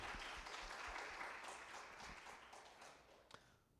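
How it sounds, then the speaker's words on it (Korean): A church congregation applauds during a Sunday service, a broad continuous patter of many hands, fairly quiet and distant, slowly tapering before stopping. "하나님께 감사와 영광의 박수를 올려드립시다"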